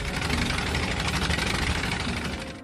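Two motor boats tow a bamboo raft out to sea, their engines giving a steady, loud droning chug that fades slightly toward the end, heard alone without talk.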